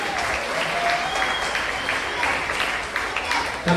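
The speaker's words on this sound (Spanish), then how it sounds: "un aplauso para él." An audience at a primary school graduation applauds, a dense and steady wash of many hands clapping together that holds at an even loudness for several seconds.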